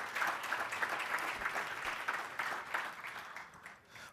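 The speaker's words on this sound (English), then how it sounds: "Let's give him another round of applause, please." Steady, fairly faint applause from the audience at a Black student athlete summit, a continuous patter of many hands clapping with no voices standing out, lasting the whole stretch.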